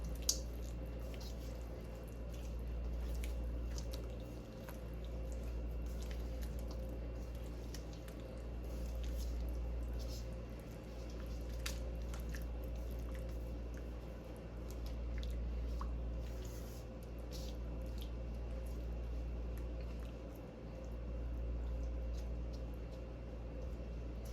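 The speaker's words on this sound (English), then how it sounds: "My sauce is bubbling now, so I'm gonna go right ahead and add my chicken." Chicken slices cooking in bubbling teriyaki sauce in a pan, a steady low simmer with soft wet bubbling and faint sizzle running throughout, no talking.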